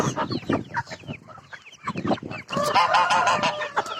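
Hungry, cold farmyard poultry cluck and squawk continuously at close range as feed is prepared for them, the calls rising into a dense, excited chorus in the second half.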